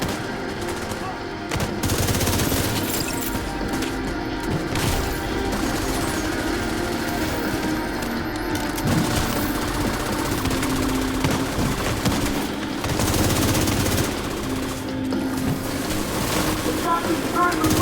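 Sustained gunfire in The Division 2 during a raid, dense rapid bursts of automatic shots over a continuous loud game soundscape, with a voice talking over it.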